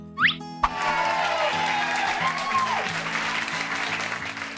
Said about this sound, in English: Let's give a huge round of applause to my friend,